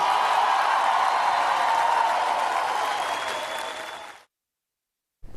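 A large political crowd breaks into sustained, dense applause mixed with cheering, steady and loud for several seconds before cutting off abruptly into silence.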